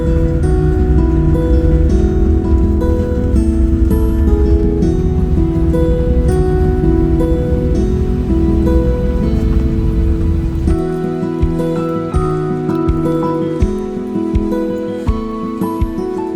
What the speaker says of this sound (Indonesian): Tiap hari hujan sini ya,